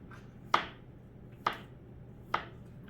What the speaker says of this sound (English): just cut across the potatoes